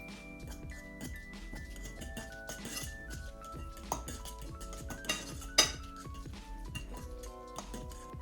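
Guacamole mixed with salt in a bowl: a spoon scrapes and clinks repeatedly against the bowl in irregular strokes, with soft background music playing along.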